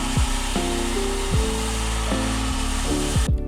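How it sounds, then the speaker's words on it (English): A power sander grinds a steel sword blade held flat against it, a loud continuous whine whose pitch repeatedly drops and recovers as the blade is pressed in. "laying the sander flat and holding the blade into it"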